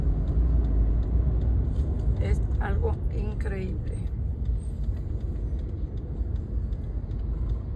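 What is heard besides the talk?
heavy road traffic, cars crawling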